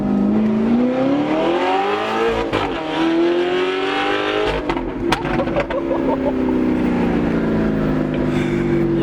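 A car engine revs loudly and steadily, pitch climbing and dipping through the gears, with a few sharp clicks and bursts near the middle.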